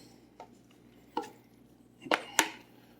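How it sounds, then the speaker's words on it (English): Ground turkey drops into a pot of simmering soup with a few separate clunks and thuds that grow louder, the last two close together, over a quiet background hum. "now I'm going to add my turkey in"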